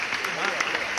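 A comedy poetry show audience breaks into applause, a dense, steady wash of many hands clapping that fills the whole brief moment.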